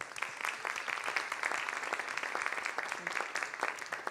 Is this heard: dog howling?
no